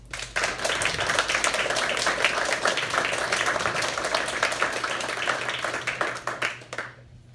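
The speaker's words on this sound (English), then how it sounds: "let's give them all a round of applause" At a community event honouring women in history, the audience claps for five award recipients, a sustained crowd applause that starts suddenly, stays steady and full for about six seconds, then cuts off.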